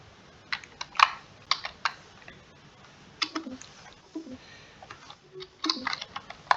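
Keys clatter on a computer keyboard as Java code is typed, in quick irregular bursts of close, fairly soft clicks with brief pauses between runs.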